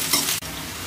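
Chopped onion fries in hot oil in a pan, giving a close, steady sizzle broken by a brief stir scrape partway through.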